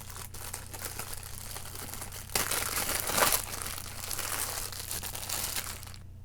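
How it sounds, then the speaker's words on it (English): Cellophane plastic wrap is peeled off a box, with close crinkling and crackling that swells into a louder tearing burst midway and then settles into softer rustling. "let's get this plastic off"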